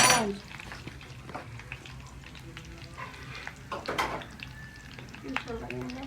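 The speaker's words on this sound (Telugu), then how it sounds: "పప్పు తాలింపు అయిపోయింది." Spices for dal tempering sizzle and crackle in hot oil in a pan, with stirring clinks and scrapes over a low background sizzle and a few soft sounds of people nearby.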